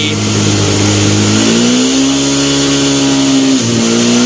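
A Yamaha Exciter 150 motorcycle engine fitted with a 60 mm ceramic cylinder revs hard through second, third and fourth gears, a loud, close, buzzing drone whose pitch climbs and drops at each shift.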